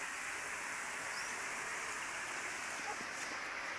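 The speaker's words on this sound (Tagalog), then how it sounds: "Lumakas ang ulan." Steady, dense rain hissing continuously without a break, a broad wash of falling water at moderate distance with no distinct individual drops.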